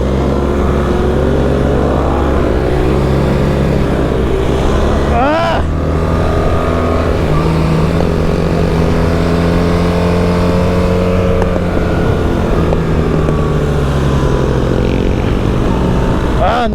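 A car on off-road tires drives hard around a race track, its engine droning loudly and steadily with rising and falling pitch through the corners, while a voice shouts over it.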